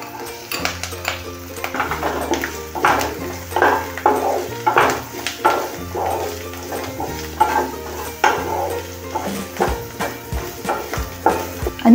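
Chopped onion frying in hot oil with green chillies and curry leaves for Mumbai vada pav filling, with a spoon stirring and scraping the pan in irregular clinks over a steady sizzle.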